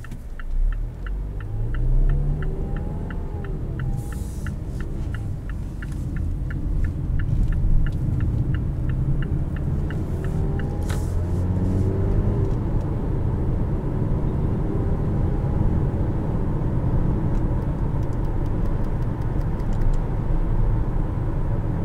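Interior road rumble in a 2018 Mazda CX-5 driving through traffic on cruise control: a steady low drone of tyres and engine, with brief swelling tones and light clicks early on, continuous and fairly quiet.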